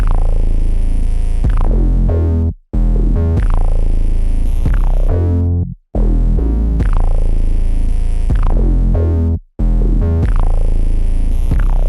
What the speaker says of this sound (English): It goes together with the other 808 that hits across the second and fourth bars and sounds like this.